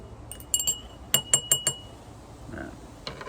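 A spoon stirring whiskey in a glass, several bright ringing clinks in quick succession, close and clear, followed by a faint rustle and one last soft clink.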